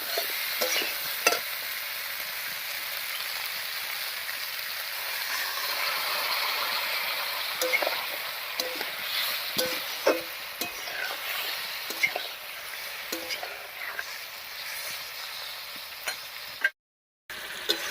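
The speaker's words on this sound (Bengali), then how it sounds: "ফুলকপি আর আলু খুব ভালো করে মিশিয়ে নিয়েছি এবারে মশলা বাটা জল দিয়ে কষিয়ে নিই" Cauliflower and potato are stir-fried in a pan with spice paste and water for a katla fish curry. A steady sizzle runs throughout under frequent scraping and clicking stirs, close and even, with no voices.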